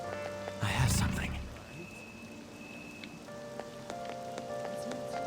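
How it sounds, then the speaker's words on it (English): Continuous rain patter in the video game Persona 5 Royal, an even hiss of falling drops that briefly gives way to a louder burst near the start, then settles back to a steady wash. "Oh, this rain is so annoying."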